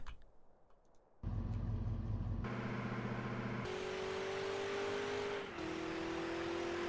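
A car in the UA Online video game accelerates while driving over grass, its engine droning steadily and rising in pitch through stepped gear changes, loud and close with no talk.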